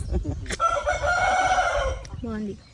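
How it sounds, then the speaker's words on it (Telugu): A fighting rooster crows once, close and loud, a drawn-out cock-a-doodle-doo lasting over a second, followed by a short cluck, with faint background noise. "కోళ్ళు చూడండి, పందెం కోళ్ళు ఇవన్నీ"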